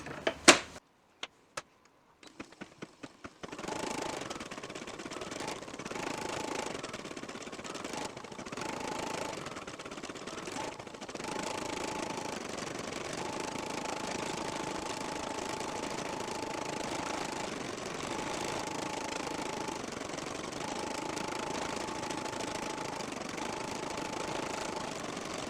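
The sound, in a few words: embroidery machine stitching a gingerbread ornament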